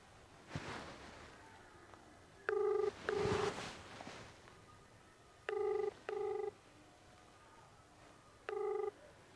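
Outgoing phone call ringback: repeated electronic ring bursts in pairs, clear and fairly loud, with brief breathy handling noise before the rings begin.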